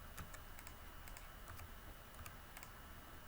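Keys clatter on a computer keyboard while data is entered into a Google Sheets spreadsheet, a steady run of light, close clicks alone with no voice.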